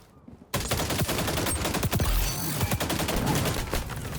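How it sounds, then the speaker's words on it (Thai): AK-47 gunfire in the XDefiant shooter bursts in after a brief quiet start and turns into dense, rapid automatic fire, with many overlapping shots from close and farther off. "ยิงกันเกลื่อนเลยเฮีย"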